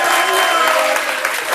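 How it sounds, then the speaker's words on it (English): Studio audience at a live sports talk show applauding steadily, a dense wash of many hands clapping at moderate distance for a short stretch. "Can you guys give him a round of applause"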